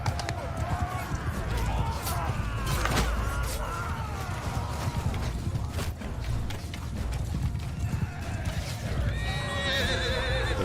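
Mount & Blade 2: Bannerlord battle with a horse whinnying amid galloping clip-clop hooves, clashing weapons and shouting soldiers, busy and loud throughout, with a player talking.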